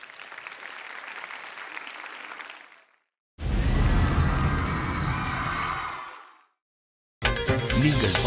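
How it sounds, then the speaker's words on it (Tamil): A TV singing show audience claps in three bursts of applause, the middle one loudest and fullest, separated by short silent gaps. "மறுபடியும் ஒரு பலமான கைத்தட்டல்"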